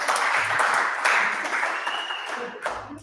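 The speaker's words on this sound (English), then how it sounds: "Round of applause for our language model." An indoor audience at a lecture on large language models breaks into sustained applause, a steady wash of clapping that slowly tapers, with faint voices underneath.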